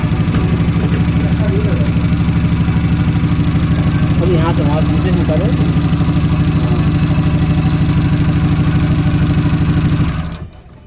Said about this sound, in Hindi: ये गाड़ी तेल ज़्यादा खा रही, मिसिंग कर रही है।